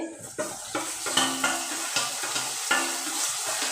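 Chopped tomatoes go into onions already fried reddish in a pan for egg masala curry, a steady close sizzle with a series of spoon stirs and scrapes at a regular rhythm.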